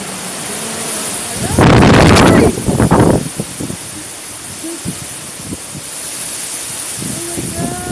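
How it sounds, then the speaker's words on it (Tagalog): Strong typhoon wind hits the microphone in a loud, roaring gust that buffets for about a second, then eases into a lower, restless rush with softer scattered thumps. "Super lakas ng hangin."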